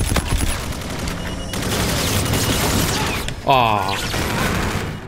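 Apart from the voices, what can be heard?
gunfire in a video game shooter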